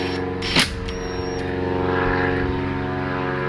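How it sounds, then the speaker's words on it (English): A propeller airplane drones overhead, a steady, loud, harmonic engine hum holding throughout the short stretch, with a brief knock near the start. "we got another airplane flying over"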